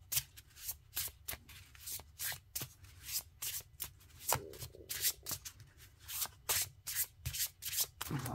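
Oracle cards being shuffled by hand, a steady run of soft riffling and sliding bursts at close range with no voices.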